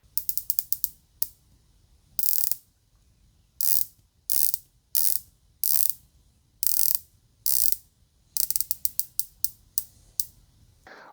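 The bezel on a Rolex Submariner diver's watch is turned in short runs of crisp, close ratcheting clicks, some quick and rapid, others spaced, against a quiet background.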